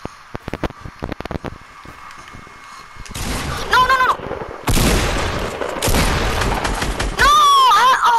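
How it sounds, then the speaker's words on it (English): Video game gunfire: a run of sharp isolated shots early on, then dense bursts of rapid automatic fire and booms that grow loud and crowded, with a voice briefly heard among them. "I shot you"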